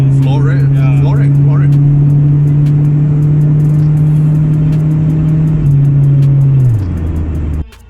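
A 1994 Honda Integra ZXi engine drones loudly at a steady high pitch under full throttle, holding for several seconds before the note drops and fades near the end.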